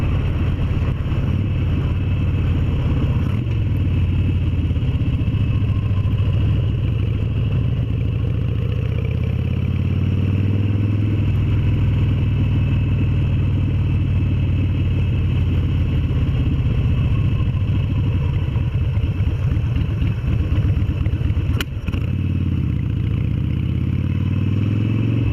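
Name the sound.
Harley-Davidson Sportster motorcycle riding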